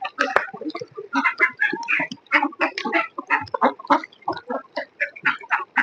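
A flock of farmyard chickens clucking close by in a poultry yard where the ducks have just been sold off, with a steady run of short, overlapping calls and squawks throughout.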